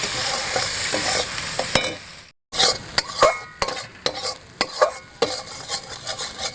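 Flat beans fry in a pan with turmeric and mustard paste while a utensil stirs them in repeated scraping strokes over a steady close sizzle, with a brief gap partway through.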